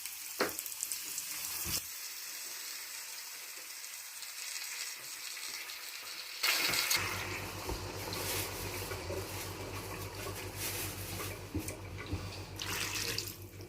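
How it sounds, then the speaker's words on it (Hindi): Half a kilo of water poured into a pot of sizzling mutton liver with tomato and onion, the hiss of frying giving way to a louder, steady rush and bubbling of water hitting the hot pan, with no talking. "आधा किलो पानी डाल दिया हमने इसमें"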